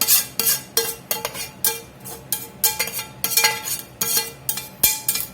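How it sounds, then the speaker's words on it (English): Mushrooms and onions cooked in bacon fat are being mixed into meat, heard as a run of rhythmic metallic clinks and scrapes of a spoon against a bowl, close and fairly loud. "We're going to get these mushroom and onions in here, cooked in that bacon fat."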